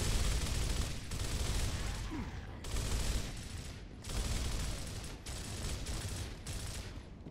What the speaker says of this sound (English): Let's just move up here and shoot him.